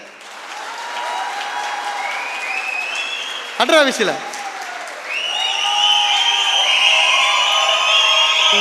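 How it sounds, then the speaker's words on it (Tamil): Audience applause at a company anniversary celebration builds as a broad wash of clapping, mixed with whistles and a brief shout midway, swelling louder toward the end. "அடிடா கைத்தட்ட"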